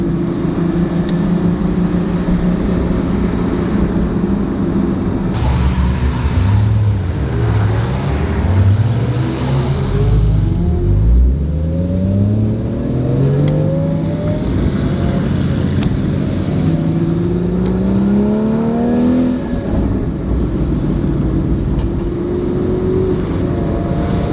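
A Porsche GT4 held in first gear, heard from inside as the engine drones loudly and revs rise and fall in long sweeps while the car accelerates repeatedly, with no talking.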